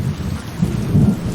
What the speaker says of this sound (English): The storm is really loud and annoying.